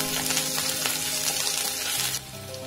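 Garlic frying in a pan, a steady close sizzle with faint stirring scrapes throughout, the hiss softening and shifting near the end as something else goes into the pan.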